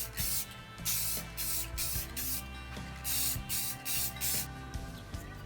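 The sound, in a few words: spraying light finish coats on stained wooden base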